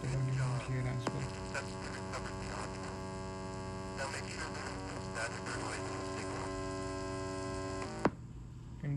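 Steady low background hum from a GNU Radio receiver tuned to 146.5 MHz, constant and droning throughout with a brief click near the end.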